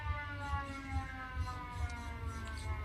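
Three-quarter time siren at a country Australian football match between Burracoppin and Nukarni, a steady sustained tone held throughout, fairly faint beneath a rhythmic low thumping and outdoor background noise.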